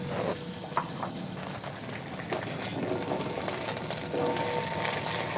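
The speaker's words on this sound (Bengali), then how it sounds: "পেঁয়াজটা লাল হয়ে গেছে, এবার ডাঁটা ঢেলে দিচ্ছি।" Moringa drumstick pieces go into a frying pan of browned onions, giving a steady close sizzle with scattered light clatter and scraping throughout.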